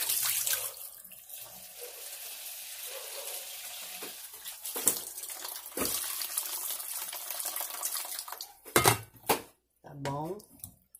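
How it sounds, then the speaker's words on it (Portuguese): Water is poured into a cooking pot of mocotó with vegetables, a soft steady stream close by, with someone talking over it and pot clatter near the end. "Botar mais água"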